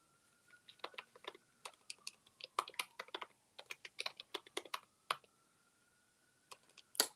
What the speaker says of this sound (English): I'm typing your name, but that's not what I'm supposed to be doing.